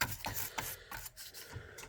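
Scrubbing and rubbing on an old IBM 5170 PC/AT during cleaning, close rasping strokes in a quick irregular rhythm with no talking.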